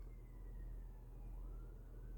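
Emergency vehicle siren wailing faintly in the distance outside, a thin rising and falling tone over a low steady rumble, with no talk.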